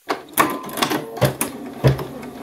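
A Bernina embroidery machine set to straight stitch with a number 26 foot runs in short mechanical bursts, whirring and clattering close up in an uneven stop-start pattern, with no talking.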